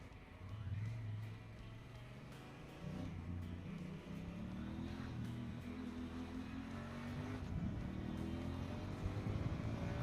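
Honda Africa Twin adventure motorcycle on the road, its engine droning steadily with rising and falling pitch as it shifts through the revs, wind rush underneath, no talking.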